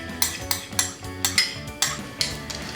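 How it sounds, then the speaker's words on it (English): A spoon stirs soy braised beef in a pot, clinking and scraping against the metal in a quick, regular rhythm of about nine close strikes with no talking. "Give it a good stir."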